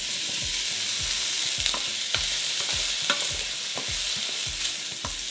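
Sausage sizzles steadily in a pan over medium-high heat as the first step of a jambalaya, with repeated scraping stirs cutting through the continuous frying hiss; no voices.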